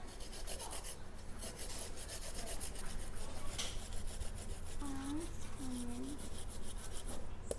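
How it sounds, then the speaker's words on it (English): Steady rubbing rasp of fresh ginger being grated for a steak sauce in a kitchen, a soft continuous scraping with a faint voice murmuring in the background. "I'm going to grate some of that fresh ginger in the sauce."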